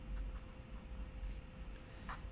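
Marker or chalk on a board while a physics problem is worked out, giving a few short faint scratchy strokes over a quiet room hum.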